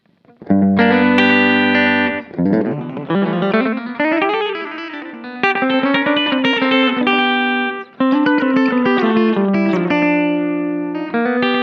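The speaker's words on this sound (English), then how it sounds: "It's a slapback delay setting." Electric guitar through a Kemper Profiler playing a twangy, bluesy phrase with a short slapback delay doubling each note, clean and close with no voices.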